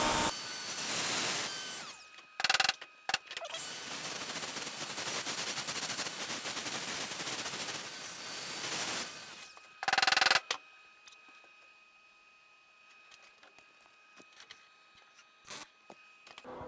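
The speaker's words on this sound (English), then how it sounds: "Not a super hot weld, but it's enough of a weld to get me where I need to be." A rusty windshield frame is welded, with a harsh crackling buzz of the arc running in long bursts and then short spurts, followed by quieter ticking and scattered clicks.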